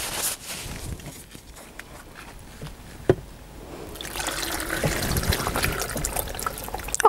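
Water is poured into a green smoothie of avocado, ginger and frozen spinach. After a few quiet seconds with a small knock, a continuous splashing pour begins and grows louder toward the end.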